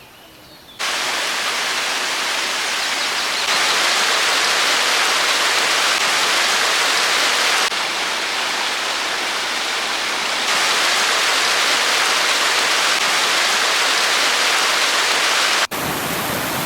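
A small clear, cold stream in the Vazhachal forest of Kerala rushes with a steady, loud broadband wash of flowing water, close by, constant throughout with slight surges in level and no voices.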